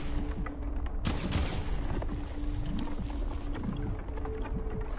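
Repeated gunshots fired at a large orb at Loot Lake in a video game, sharp cracks spread through a dense, busy mix of game sounds and effects, with a strong burst of fire near the start.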